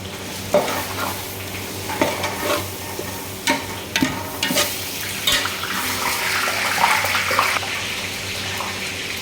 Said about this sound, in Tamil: மசாலா நல்லா வாடிடுச்சு தக்காளி போட்டுக்கிறோம் ஒரு கிலோ தக்காளி